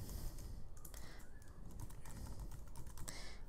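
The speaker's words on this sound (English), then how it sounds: "Type in a username." Keys clack quickly and irregularly as a username is typed on a computer keyboard during a Windows 7 installation, close up and fairly quiet, with no voice.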